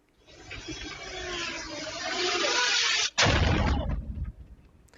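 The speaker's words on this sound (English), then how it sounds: "more than a dozen explosions were heard around the flotilla" A loud, sustained roaring blast builds over a few seconds, then a sharp, heavy boom bursts out and rumbles before fading, heard from a boat in a flotilla off the coast of Crete, with no talking.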